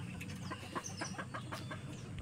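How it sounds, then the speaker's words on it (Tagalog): Several caged bantam chickens clucking softly and repeatedly nearby, overlapping short calls over a steady low background hum. "Mga manok nila sa kulungan."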